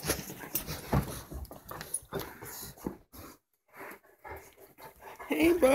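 Dogs panting and whimpering at close range, with breathy, irregular bursts mixed with voices talking throughout.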